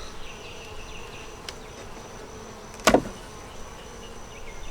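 Honey bees in a double deep hive with a honey super, giving off a soft, steady drone. Midway a sharp short scrape or knock stands out, and nobody speaks.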